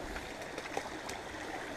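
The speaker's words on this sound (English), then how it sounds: "this brook, this stream, I think they also call them cloughs, goes over bedrock." A brook running over bedrock in the Todmorden hills of the UK, a steady close wash of flowing water holding at an even level throughout, with no voices.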